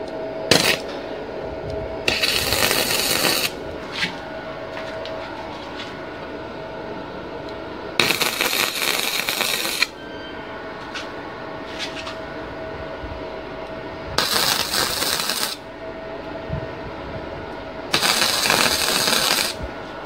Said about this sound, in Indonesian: kita langsung aja melakukan pengelasan